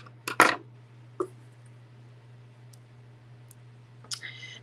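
Scissors snip the end of a knotted cord on a daisy bracelet, heard as one crisp close cut followed by a few small faint clicks against a low steady hum.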